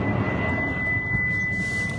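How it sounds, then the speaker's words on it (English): An airplane passes overhead outdoors as a low, steady broadband rumble with a thin whining tone on top, continuous and moderately loud throughout. "There's a plane."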